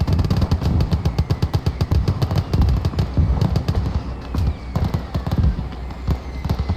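Mortar barrage and gunfire in the WWII game Gates of Hell: Ostfront, with a loud, dense stream of sharp cracks and thumps in rapid uneven rhythm, close and relentless for several seconds.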